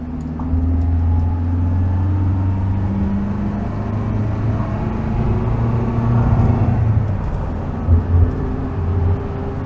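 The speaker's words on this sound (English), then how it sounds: "And now I'm making it accelerate uphill." A 1965 Singer Vogue Series III's small engine hums and rises in pitch as it pulls hard uphill, a steady low drone close by that strains and builds over several seconds.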